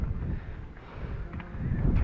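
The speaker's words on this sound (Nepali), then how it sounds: "हावा दामी चलिरहेछ।" Strong wind gusts buffet the microphone on a hiking trail, a low continuous roar that swells toward the end, with no talk.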